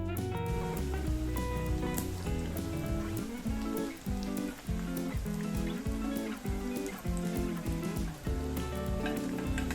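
Bonda dumplings fry in hot oil with a dense, steady crackling sizzle that holds close and even throughout, without any talking.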